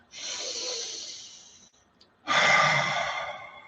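A deep breath taken close to the microphone, one long airy inhale followed after a short pause by a strong exhale, alone without talking.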